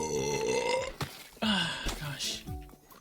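A drawn-out, deep burp that rumbles loudly for about a second, then gives way to further croaky belching sounds and throaty vocal noises in quick succession.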